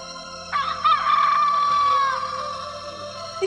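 A cartoon chicken heading off with a fox: a single drawn-out squawking cluck, clear and close, rising then trailing off over a few seconds with no voices.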